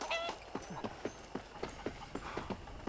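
A horse's hooves clip-clop at a steady trot in Red Dead Redemption, the evenly spaced, fairly quiet thuds sounding alone over faint ambient background.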